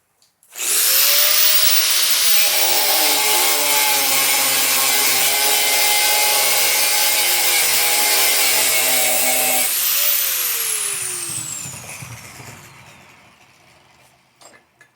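A power saw cuts steadily into a forge-welded can billet, a loud continuous high whine lasting about nine seconds before the blade spins down and fades, with a faint clank near the end.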